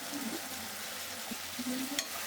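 Ground coriander and Kashmiri chili powder fry in a pan for a potol curry, a soft steady sizzle with short stirring scrapes and a sharper clink near the end.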